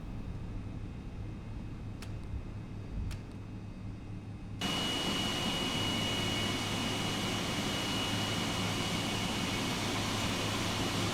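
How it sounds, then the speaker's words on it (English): A Boeing 777 heavy cargo jet in X-Plane 11, parked with the brake set, starts with a quiet hum and two faint clicks, then a loud, steady engine roar surges in about halfway through and holds. "Let's go ahead and spool down these engines and see what it sounds like."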